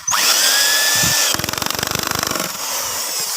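An impact driver tightens bolts on an 18-inch speaker driver: a loud high whine followed by a rapid burst of rattling hammer impacts, then the motor whirring again, close by.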